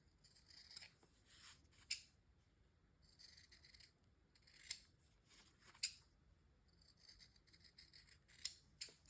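Sewing scissors snipping notches and trimming the fabric seam allowance on a short sleeve with cuff and tab, several quick separate cuts in bursts with short pauses between them, close and fairly soft.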